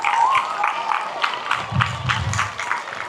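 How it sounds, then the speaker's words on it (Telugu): An audience bursts into applause, rhythmic clapping from many hands in a hall continuing steadily for a few seconds at moderate volume. "మిమ్మల్ని మీరు ఒకసారి చప్పట్లు కొట్టుకోండి."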